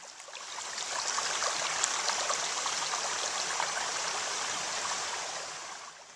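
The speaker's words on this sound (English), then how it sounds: "Whether it be in a babbling brook" A babbling brook flows steadily, a bright continuous rush and trickle of water over stones, close and even, swelling slightly and fading at the end.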